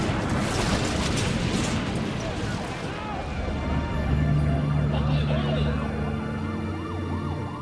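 A rescue vehicle siren wails at an aircraft crash scene, its tone rising and falling repeatedly over a low rumble and busy background noise that drop away as the siren takes over.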